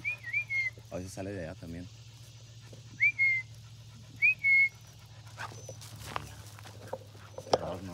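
A person whistles repeatedly to call a dog on a large property, short rising two-note whistles spaced apart, with a nearby voice speaking Spanish and a low steady hum underneath.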